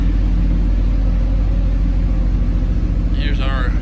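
A McLaren car engine idles in a home garage with a deep steady rumble close by. A brief voice cuts in near the end.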